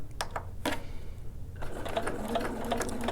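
A sewing machine sews a few stitches on a single welt pocket, with short bursts of rapid mechanical clatter, then a pause and another run of stitching, close and moderately loud.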